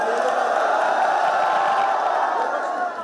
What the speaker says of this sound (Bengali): মুহুর্মুহু করতালি আর স্লোগানের মাধ্যমে ফলাফল ঘোষণা উদযাপন করেন ঢাকা বিশ্ববিদ্যালয়ের শিক্ষার্থীরা।